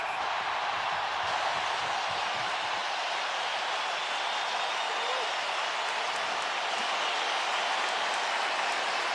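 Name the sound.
hockey crowd cheering at end of period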